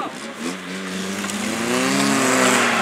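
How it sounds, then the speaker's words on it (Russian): A Lada Niva off-road car's engine strains and revs as it climbs over a sandy bump, a loud rising drone that builds steadily and stays close. "Нива переехала бугорчик"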